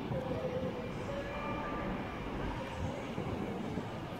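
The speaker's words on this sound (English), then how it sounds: "arriving in the distance is going to be a Virgin Pendolino from Manchester Piccadilly" A Virgin Pendolino from Manchester Piccadilly rolls into London Euston on the West Coast Main Line, a low steady rumble with faint high squeals from the wheels, heard from the platform at a moderate distance.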